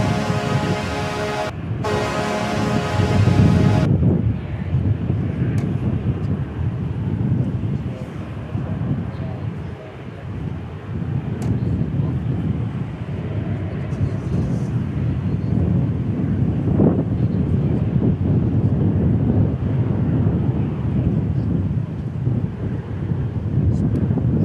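An American Airlines Dreamliner jet arriving at Dallas Fort Worth Airport, a sustained low rumbling roar mixed with wind buffeting on the microphone, following a short burst of other sound at the start; a voice talks over it.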